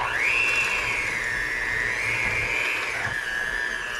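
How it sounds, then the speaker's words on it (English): An electric hand mixer whirs steadily as it beats butter and sugar for a boozy dessert, its motor whine droning close and loud, dipping and rising slightly as it works through the bowl. "Now using our hand mixer"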